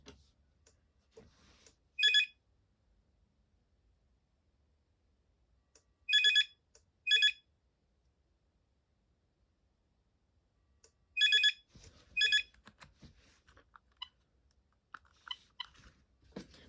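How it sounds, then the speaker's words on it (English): A Binatone Icarus 2100 cordless phone rings in short bursts of bright electronic trills, one then two pairs spaced apart across the quiet, close and clear, with faint handling noise toward the end. "That's the ringtone I grew up with."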